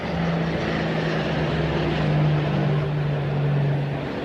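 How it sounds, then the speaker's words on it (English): Four-engine wartime aircraft, a Sunderland or Focke-Wulf, droning steadily overhead, heard as a continuous low engine hum that swells slightly midway, distant and muffled from inside a submarine, with no voices. "4 engines. That's either a Sunderland or a Fokker-Wulf nosing about."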